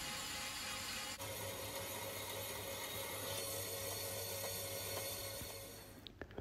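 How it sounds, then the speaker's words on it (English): A bandsaw cuts through aluminium plate in a workshop, its blade making a steady, continuous rasping drone with a faint tonal whine that runs for several seconds, then trails off into a few small knocks, with no talking. "The bandsaw is quick and makes easy work of cutting the aluminium plate."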